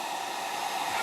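A hair dryer blows steadily and close by, a constant broadband rush of air with no pauses and no voices, heard in a home setting.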